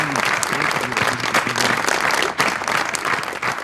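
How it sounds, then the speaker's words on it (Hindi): Studio audience applause welcoming a guest onto a televised talk show, a loud, dense burst of clapping that carries on steadily with a few brief dips, with some musical tones sounding faintly beneath it early on. "तो आइए तालियों में इस्तकबाल कीजिए"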